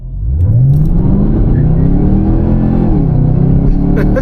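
Chevrolet Camaro ZL1 accelerating hard, the engine roaring loud and close with a rising rev sweep and tires spinning, sustained throughout without talk.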